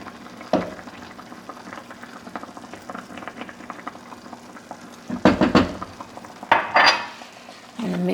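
Vegan carrot halwa sweetened with maple syrup being stirred in a pot, a spoon scraping and clanking against the metal in short bursts with quiet simmering between, close by and without talk.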